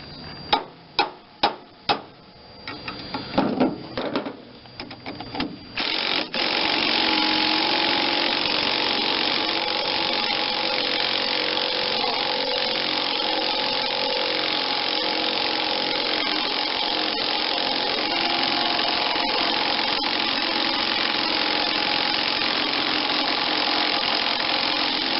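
A socket wrench ratchets on a Tecumseh HH100 engine from a Bolens G10 Husky 1055 tractor, giving a quick series of close, sharp clicks before a loud, steady mechanical drone takes over.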